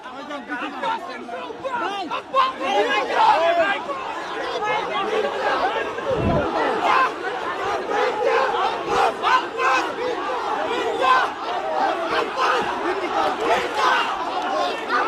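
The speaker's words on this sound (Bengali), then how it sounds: "চতুর্দিকে সকলে কিন্তু ভুয়া ভুয়া স্লোগান দিচ্ছেন" Dense rally crowd at a Dhaka-8 BNP gathering around candidate Mirza Abbas, many voices shouting and chanting protest slogans in a loud, continuous roar with overlapping chatter throughout.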